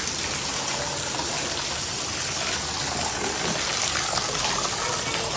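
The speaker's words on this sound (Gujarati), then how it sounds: "મસ્ત મસ્ત વરસાદ આવે છે" Heavy rain pours down in a dense, unbroken hiss of drops splashing on surfaces, loud and steady with no talking.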